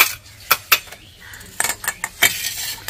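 Strained yogurt being beaten in a bowl, giving quick irregular clinks and scrapes of a utensil against the bowl, close and bright, with brief pauses between bursts.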